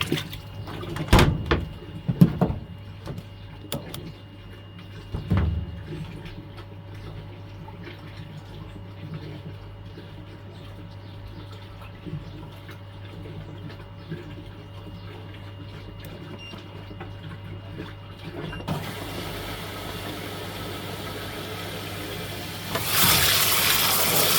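A Fisher & Paykel WA80T65GW1 top-load washing machine fills with water: a few clunks and knocks at the start, then a low steady hum and trickle, with a louder rush of water surging near the end.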